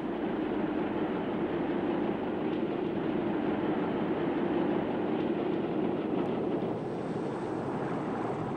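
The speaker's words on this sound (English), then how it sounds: "This Class 47 is on the Lickey Incline, being banked at Class 37." A steady, heavy mechanical rumble of a Class 47 diesel locomotive hauling a train up the Lickey Incline, banked by a Class 37, rolls on continuously, a droning engine with constant noise and no voices.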